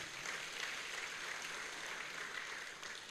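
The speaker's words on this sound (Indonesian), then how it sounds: "Berikan tepukan untuk anak muda kita." Church congregation clapping for its young volunteers, a steady wash of many hands applauding at moderate distance, fairly soft and even for the whole stretch.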